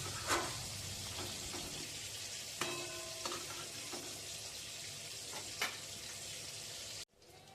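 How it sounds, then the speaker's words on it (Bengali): A prawn, eggplant and potato curry is sautéed in a pan, a continuous close sizzle with occasional spatula scrapes and knocks, ending suddenly in near silence. "তরকারিটা আমি ভালো করে কষাচ্ছি।"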